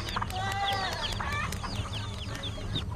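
Chickens cluck busily in a farmyard, with repeated short calls and squawks layered over a steady low hum.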